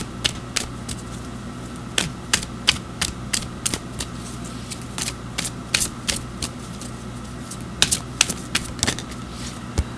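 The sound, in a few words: drawing and shuffling oracle cards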